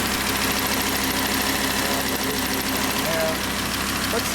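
A 2015 Lamborghini Huracan LP 610-4 V10 idles steadily close by, a constant rumbling drone with no revving.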